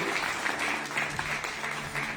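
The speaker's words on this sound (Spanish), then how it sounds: "Denle un aplauso a Jesús." A church congregation at a general service claps together, a steady, full wash of applause from many hands lasting a couple of seconds without a break.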